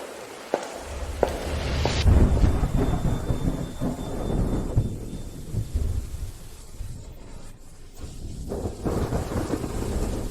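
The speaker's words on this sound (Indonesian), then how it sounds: "Tidak bisa berjalan di hujan deras begini." Heavy rain pours steadily with deep rumbling thunder rolling through, loud and close, a sharp crack near the start and sustained downpour noise throughout.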